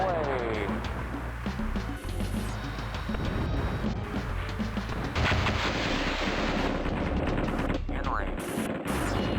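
Anti-aircraft fire and bombing in the flight-combat game Fighters Anthology: dense rattling bursts of flak and gunfire with heavy explosive thuds, continuous and loud, growing fiercer partway through, with speech mixed in.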